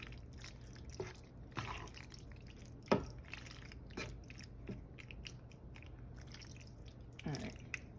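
Cooked pasta being stirred into meat sauce for baked ziti, soft wet squelches and occasional utensil knocks against the pot, faint and close with scattered moist clicks.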